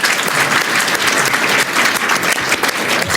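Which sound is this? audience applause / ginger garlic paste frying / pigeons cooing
audience applause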